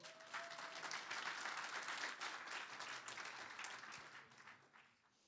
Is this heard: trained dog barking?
no